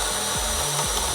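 A Milwaukee 12V hammer drill boring with a 3/4 inch Diablo Speed Demon bit in speed 2: a loud, close, grinding buzz with rapid rhythmic pulsing over a little more than a second.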